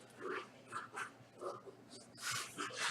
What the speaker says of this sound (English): Now I hear my crazy dog.